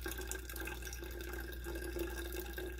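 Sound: filtered water pouring into a flask

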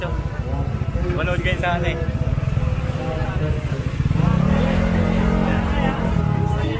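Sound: Honda PCX motorcycle riding away

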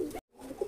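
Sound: Tok-wale jaldar pigeons cooing

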